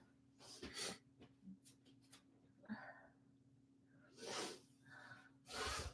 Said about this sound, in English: I gotta sneeze. Sneeze it up.